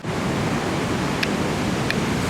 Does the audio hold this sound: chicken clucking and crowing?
no